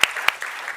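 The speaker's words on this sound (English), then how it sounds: "a big round of applause" Conference audience applauding a guest speaker, a short burst of clapping with a couple of sharp, close claps standing out.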